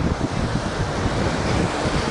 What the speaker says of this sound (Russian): Да, ветер, конечно, сегодня.